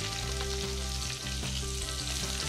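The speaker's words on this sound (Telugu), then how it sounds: "ఈ ఆనియన్ కొంచెం బాగా మగ్గేంత వరకు కొంచెం ఫ్రై చేద్దాం" Sliced onion frying in oil with cumin and kasuri methi, a soft steady sizzle with a low hum beneath and occasional light stirring, quiet and with no talking.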